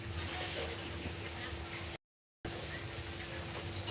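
Intestines fry in a pan in a home kitchen, giving a loud, continuous sizzling hiss that cuts out briefly and then resumes just as strongly.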